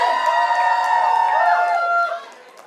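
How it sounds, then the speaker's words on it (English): An audience at a mehndi and sangeet celebration lets out loud, sustained whoops and cheers that hold for about two seconds, then fade. "Guys, can I have a louder cheer from all of you all?"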